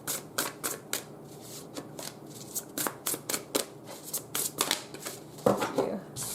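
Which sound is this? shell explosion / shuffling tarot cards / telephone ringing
shuffling tarot cards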